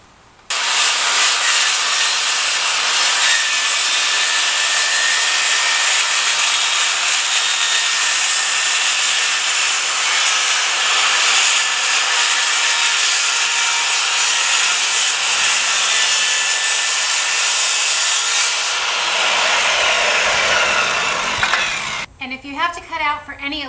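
A saw rasps steadily through a pegboard panel during garage pegboard installation, a loud continuous cut lasting about twenty seconds before it stops, followed by brief handling noise.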